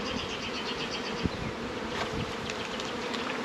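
A swarm of honeybees from a dropped full hive box hums in a dense, steady buzz throughout, with a brief sharp knock partway in and no voices.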